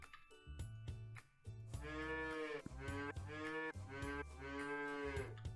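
Cattle in a farming video game let out repeated loud, drawn-out moos, several calls overlapping and following one another with short breaks between them, and no talking over them.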